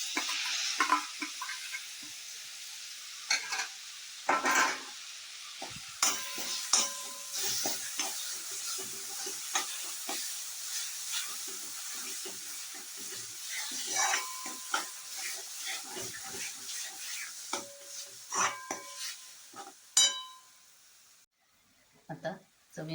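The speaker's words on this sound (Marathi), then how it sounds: "आणि मग ह्याच्यात हे वांग बारीक केलेलं घालायचं आहे." Finely chopped eggplant frying in a pan for bharit, with soft sizzling and repeated scraping stirs of a spoon, intermittent and close, while a person talks over it.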